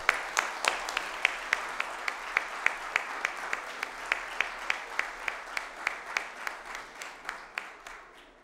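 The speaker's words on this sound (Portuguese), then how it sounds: "Peço uma calorosa salva de palmas a todos os agraciados" Slow, measured claps ring out in a large formal chamber at a solemn session awarding medals to Paralympic athletes, a sparse, steady rhythm of distinct hand strikes fading slightly at the close.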